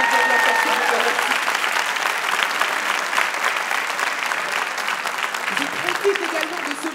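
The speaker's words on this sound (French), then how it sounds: "On peut les applaudir de la façon dont vous remercie." At a commerce awards evening in Lille, a large audience applauds in a loud, continuous wash of clapping, with a faint voice and tonal sound at the start and a voice briefly rising near the end.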